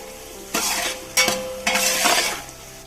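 Kohlrabi, beans and carrots frying in a pan, with three distinct bursts of sizzling and scraping as a spoon stirs the vegetables, against a quiet background hum.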